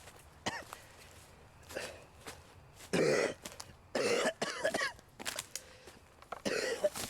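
A series of harsh coughs and throat clearings in uneven bursts, close and fairly loud, separated by short quiet gaps.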